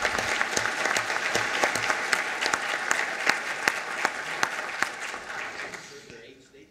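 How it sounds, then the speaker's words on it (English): An audience at a 2010 panel discussion applauds for the military, a dense run of steady clapping from many people that slowly fades out over several seconds. "let's give a round of applause for the military"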